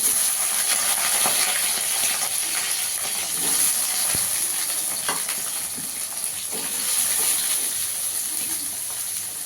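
Potato pieces frying in hot oil while making mocha kofta, a steady hissing sizzle with a few small pops, close and constant throughout.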